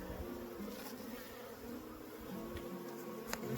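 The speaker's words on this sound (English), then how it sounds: "Lots of bees." Honey bees buzz steadily during a spring hive inspection, a dense continuous drone of many insects close by, quiet overall with no talking.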